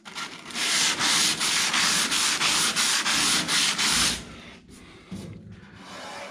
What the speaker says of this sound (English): Still got some sanding up here to do on the top of the cowl.